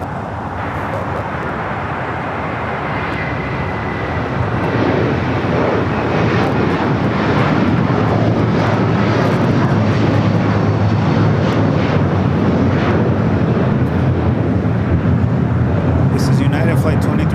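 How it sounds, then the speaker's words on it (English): A 23-year-old Boeing 757 airliner at LAX on a flight to Honolulu, loud sustained broadband engine roar building slightly and holding steady, close by, with people talking at times beneath it. "Flight 2390 going to Honolulu on a 757, 23 years old"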